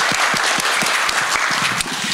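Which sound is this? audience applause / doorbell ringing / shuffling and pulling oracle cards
audience applause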